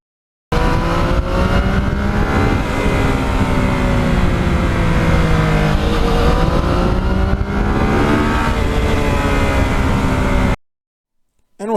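Yamaha MT-09 motorcycle accelerating hard, engine pitch climbing through several gears in rising sweeps, loud and continuous for about ten seconds before cutting to silence.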